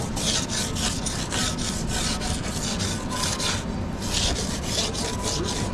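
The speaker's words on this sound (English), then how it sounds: "Once you've sanded the scratches and leading edge smooth" Steady rasping strokes of sandpaper smoothing scratches and the leading edge of a hydrofoil during a repair, close and continuous with a regular back-and-forth rhythm, no talking.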